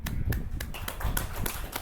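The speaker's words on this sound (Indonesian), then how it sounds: "Oke, tepuk tangan Bapak Ibu." An audience at an education workshop claps in a quick run of sharp, close hand claps lasting under two seconds, steady and fairly loud.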